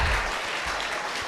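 Audience applause fills a room after a solo devotional song performance by a singer named Sanjit, a steady, dense wash of clapping that stays loud and even throughout.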